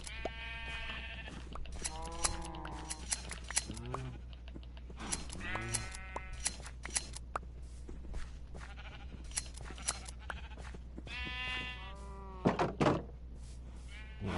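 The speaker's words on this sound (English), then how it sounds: "First things first, shear the sheep for the wool." Sheep in the Minecraft video game bleat repeatedly while being sheared, with several short nasal cries spread across the clip over a low steady hum and a few faint thunks.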